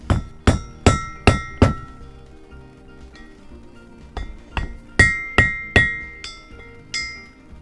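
Valve stem oil seals are tapped with a hammer onto a VW PD cylinder head at home: five sharp, ringing taps in quick succession, a pause with faint knocks, then another run of about eight close, metallic taps.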